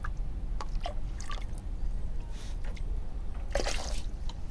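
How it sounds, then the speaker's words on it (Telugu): Small liquid pours and drips as banana fermented juice goes into water, faint splashes and trickles at irregular intervals over a low background hum. "ఇప్పుడు 20 ml వచ్చేసి 5 liter వాటర్లో కలిపేస్తాను"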